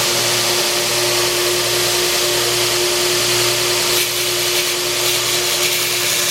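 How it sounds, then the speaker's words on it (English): A 2x72 inch belt sander grinding metal, giving a loud, continuous whirring drone with a steady hum and a constant abrasive rasp throughout, without pause. "since this 2 by 72" sander is all done, let's see how it works. Let's get it to sand this thing off."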